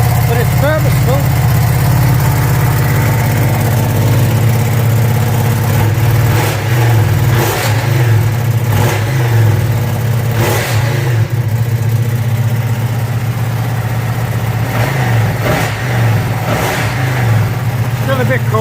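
Ducati Streetfighter V2 motorcycle engine idling cold with a loud, steady low rumble, broken by several short throttle blips that rise and fall, recorded close.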